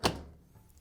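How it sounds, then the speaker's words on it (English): A Whirlpool washer door swings shut with a single short, dull thunk, close and brief, fading out quickly. "So next I'm going to close the door"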